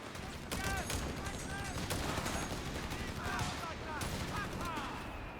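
Dense, overlapping rifle and machine-gun fire from a Company of Heroes 3 real-time strategy battle crackles steadily throughout, with rapid bursts layered over each other and a constant hum of battle noise.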